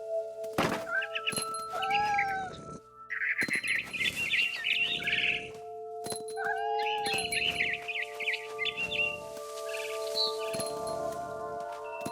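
Barn swallow chirping in the video game What Remains of Edith Finch, a bright, repeated high twittering in several bursts over soft game ambience, with thuds and tonal music hums in the background.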